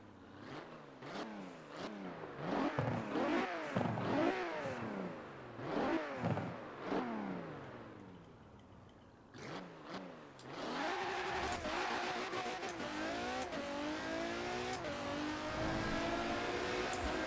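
Mercedes converted into a Brabus in Forza Horizon 4, its engine revving hard through a rapid series of upshifts with rising whines, then holding a loud, steady roar at top speed, no talking.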